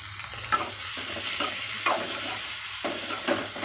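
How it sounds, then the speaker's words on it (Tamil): Grated coconut and coriander leaves sizzle and crackle in a hot pan, with intermittent stirring scrapes at an even pace, close and moderately quiet. "மூடி மேல் மூடி மட்டும் எடுத்துருக்கிற தேங்காய் கொஞ்சமாக, அதையும் இதிலையே சேர்த்திட்டு வதக்கிக்கலாம்"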